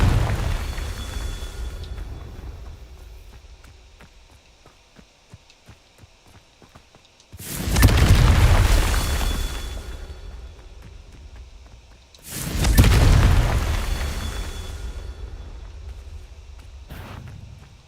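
Confringo blasting spells explode in the video game Hogwarts Legacy: two loud, booming blasts about five seconds apart, each with a long rumbling decay, separated by quieter footsteps and ambience.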